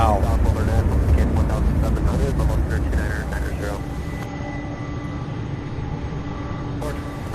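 A jet airliner taking off from Louisville SDF airport, a loud broadband engine roar that starts strong and slowly fades as it climbs away, with a steady whine lingering and a voice talking over the start.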